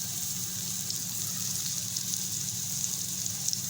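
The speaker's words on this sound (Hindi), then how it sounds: "इसमें हम डाल देंगे लहसुन मोटा मोटा कूट के।" Coarsely crushed garlic frying in a pan, an even continuous hiss and crackle close up with small pops scattered through.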